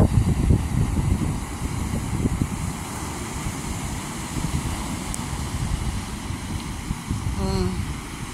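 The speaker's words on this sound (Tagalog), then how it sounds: "Ang alon." Sea waves wash onto the shore at Hilasgasan, Barili, Cebu, a continuous rushing surge mixed with wind buffeting the microphone, swelling at the start and again toward the end.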